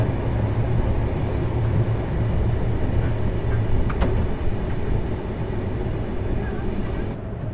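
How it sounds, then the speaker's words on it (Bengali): Ruposhi Bangla Express passenger train running near Kashiani junction, a loud continuous rumble and rattle heard close from on board, steady throughout with faint brief clanks. "এই ট্রেন লাইনে প্রথম যাত্রীবাহী ট্রেন আসলো কাশিয়ানী স্টেশনে"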